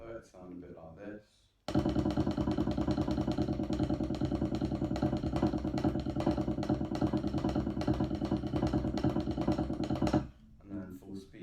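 Medium-tempo drum rudiments, paradiddles played in a fast, continuous stream of even strokes, bracketed by brief speech before and after.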